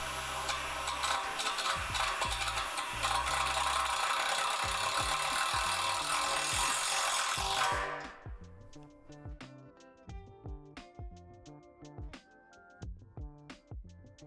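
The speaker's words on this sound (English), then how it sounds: "insert your screw. This may be difficult, but the screw is designed to go through the metal." A driver runs a screw through the metal pole of an in-ground basketball hoop with a loud, sustained whine for about eight seconds, then drops to a string of uneven clicks and ratcheting taps as it stops.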